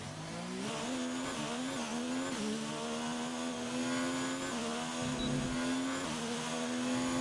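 Formula 1 race car engines in a video game whine at high pitch, rising and falling with gear shifts and throttle changes, loud and continuous with no speech.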